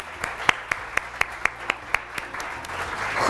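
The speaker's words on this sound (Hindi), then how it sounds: "उसके लिए तालियां।" Sparse, evenly spaced claps on a Pakistani morning TV show in a studio, about four per second, crisp and close, trailing off into quiet room noise.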